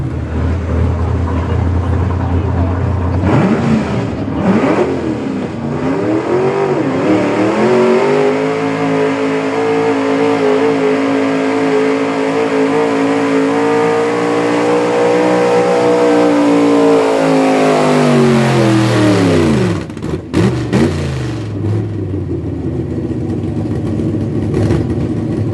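A pulling tractor's engine at the Farmville truck and tractor pull revs up hard on takeoff, a loud, sustained roar rising in pitch and holding for about fifteen seconds before dropping off abruptly near the end.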